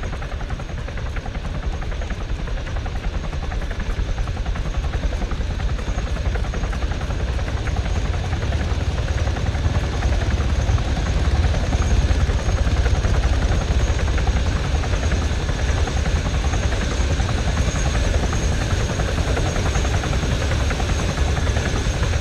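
Helicopter rotors in Arma III, choppers arriving to carry troops back to base, churn out a continuous heavy whirring roar that swells slightly mid-way and holds steady, without voices.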